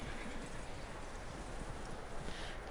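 Horse hooves clip-clop in Red Dead Redemption 2, a quiet, steady rhythmic plodding of footfalls against a faint game background.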